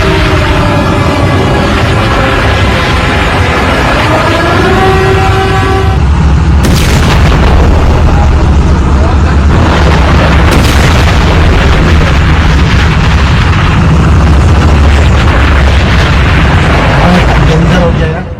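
Iranian missiles striking Saudi Arabia's largest oil refinery set off loud, continuous booming explosions. Heavy rumbling roars run without a break and swell into several sharper blasts, while a voice is heard talking at the start.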